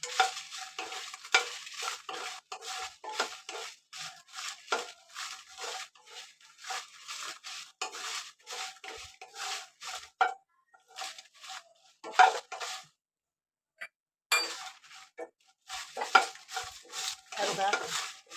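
Green chillies, a mix of local and bedki varieties, roast in a pan with repeated close scraping and stirring strokes against the metal, in rhythmic bursts with a brief pause, and no talk.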